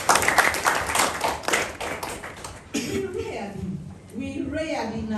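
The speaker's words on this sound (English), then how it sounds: "can we clap and thank God?" An audience of religious and cultural leaders claps in a fast, loud burst that thins out after a few seconds, followed by murmuring, a cough and voices.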